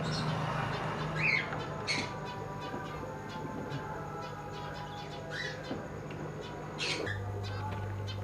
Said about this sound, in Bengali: এখানে কিছু গিরিবাজ পায়রা আছে